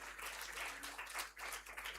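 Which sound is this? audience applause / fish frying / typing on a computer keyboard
audience applause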